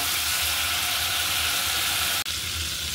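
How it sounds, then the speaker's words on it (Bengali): Black raisins fry lightly in a pan for milk semai with a dense, even sizzle that stays loud and close. The sizzle cuts out for a moment near the end, then resumes, and no voices are heard. "কালো কিশমিশটাও হালকা ভেজে নিব।"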